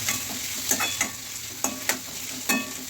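Cinnamon and cloves frying in oil in a pan, a steady soft sizzle broken by several sharp scraping stirs of a spoon at irregular intervals, close and without talk.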